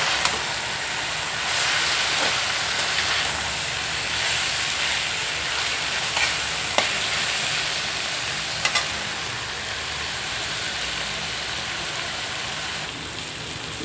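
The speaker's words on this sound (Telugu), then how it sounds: "ఇప్పుడే అల్లం వెల్లిపాయ ఫ్రెష్గా చేసి వేసుకుంటున్నాను" Freshly made ginger garlic paste fries in a tempering for ivy gourd with coconut, giving a steady, dense sizzling hiss throughout, with a few faint clicks of stirring.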